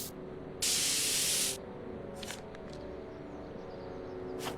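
A spray paint can in the Back to the Future video game gives one loud, sustained hiss lasting about a second, followed by a few shorter, fainter spurts over a quiet background hum.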